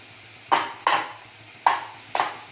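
Eggs cracked against a bowl while making an Indian masala omelette, four sharp close taps in quick uneven succession over quiet room hiss.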